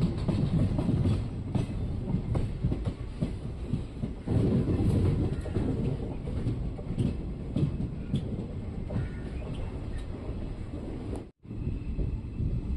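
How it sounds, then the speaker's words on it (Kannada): The Chamundi Express on the Mysore–Bangalore line rolls into Pandavapura railway station, heard from on board as a continuous heavy rumble with rhythmic wheel clatter and some wind buffeting. There is a brief dropout near the end. "ನಮ್ಮ ಟ್ರೈನ್ ಈಗ ಪಾಂಡವಪುರ ರೈಲ್ವೆ ಸ್ಟೇಷನ್ ಒಳಗಡೆ ಎಂಟ್ರಿ ಆಗ್ತಿದೆ."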